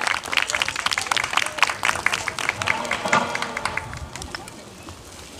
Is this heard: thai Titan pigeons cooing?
no